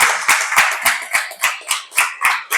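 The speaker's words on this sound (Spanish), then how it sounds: "Dale un aplauso a Dios" Church congregation applauding in rhythmic unison, sharp regular bursts of clapping about every quarter second, loud and close with no talk over it.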